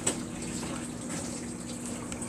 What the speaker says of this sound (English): Water's going out.